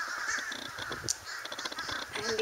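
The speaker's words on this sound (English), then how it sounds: "And this is the invasion of the crows." Crows cawing repeatedly in Florida, a scattered chorus of harsh calls from several birds at a moderate distance, with no voices.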